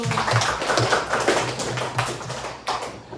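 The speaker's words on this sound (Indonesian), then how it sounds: "Oke, tepuk tangan dulu" Children clapping their hands in a classroom, a dense run of overlapping claps at close range filling the moment steadily with no talk.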